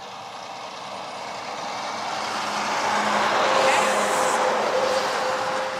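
A vehicle passes along a busy backwoods country road, its broadband rumble swelling to a peak midway and easing off, steady and fairly distant, with no talking.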